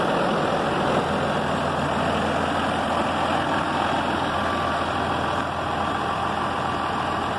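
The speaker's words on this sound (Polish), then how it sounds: "Ciągnik naprawdę chodzi bardzo ładnie." A 2004 Renault Ares 656 RZ 130-horsepower tractor's heavy diesel engine idles steadily and loud, a constant low rumble with a faint high whine, no voices.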